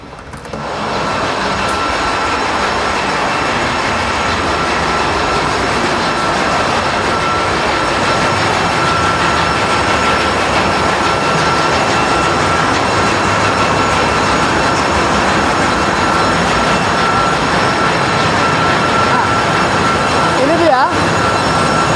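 A loud, steady mechanical roar of a large ship's engine room machinery fills the space without pause, constant and close, with a faint voice barely audible beneath.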